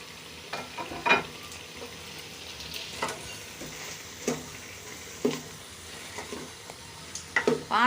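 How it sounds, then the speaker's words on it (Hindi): Radish pieces fry in a masala of dry spices for chicken mooli bhujiya, giving a steady low sizzle with intermittent stirring scrapes and clicks of a spoon against the pan. "मूली हमारी भुन चुकी है।"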